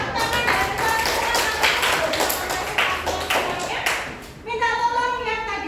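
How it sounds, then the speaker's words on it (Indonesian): Classroom applause from a group of students, a burst of loud clapping that runs for about four seconds before fading, followed by a voice speaking. "Oke, tepuk tangan dan"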